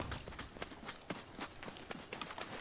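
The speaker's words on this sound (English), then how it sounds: "Thought I heard footsteps" Rapid running footsteps in the battle royale game Apex Legends, a quick uneven patter of taps close by over a steady background hum.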